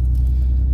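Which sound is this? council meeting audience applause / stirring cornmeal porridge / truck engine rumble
truck engine rumble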